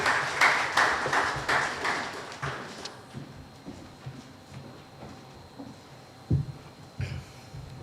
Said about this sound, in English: Let us give an applause for Ms.